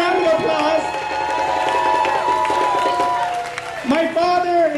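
Crowd at a marriage equality rally applauding and cheering, continuous clapping and raised voices mixed with loud amplified sound and ringing tones throughout.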